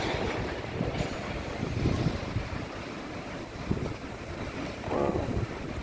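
A Norfolk Southern freight train rolls beneath the Queen Street bridge in South Greenville, South Carolina, as it goes into emergency braking, producing a continuous broad rumble and rushing roar with a few faint bumps, heard from nearby with no talking.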